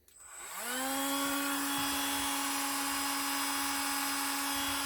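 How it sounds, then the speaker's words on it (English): A small high-pitched drill spins up and holds a steady whine while drilling the corners of a Scalextric Porsche 956 slot car chassis. It is close and loud, with no talk. "What I'm going to do is just drill the corners just so I know where to go up to."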